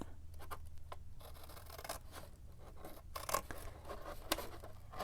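Scissors cutting card for an upcycled junk journal tag, heard as faint, close snips and scratchy rubbing strokes, with a couple of sharper cuts standing out midway.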